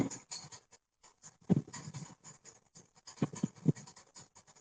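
Chalk or marker writing on a board in an electrical engineering class, close scratchy strokes in short irregular bursts with brief pauses, no talking over it.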